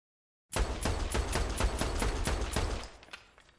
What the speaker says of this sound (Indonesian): Mr. Zhang dari belakang langsung menembak kepala Lucy